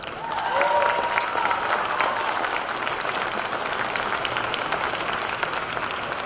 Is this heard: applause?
yes